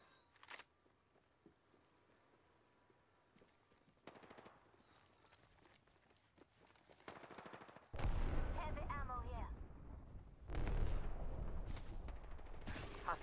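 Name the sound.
gunfire in Apex Legends, video game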